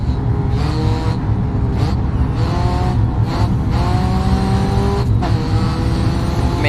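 Race car engines in the racing video game Grid Autosport roar continuously and loudly, with repeated gear-shift dips, rising revs and occasional tire squeal.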